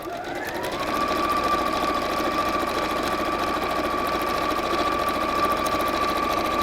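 A domestic sewing machine stitches a seam on a pleated bag with roughly quarter-inch seam allowance, running as a steady close whirring hum with a constant high whine after a brief start-up.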